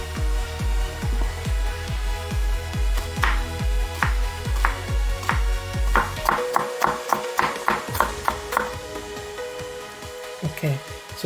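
A knife chopping onion on a cutting board, a steady run of crisp, evenly spaced taps that speeds into quicker, lighter strokes toward the end, close and clear.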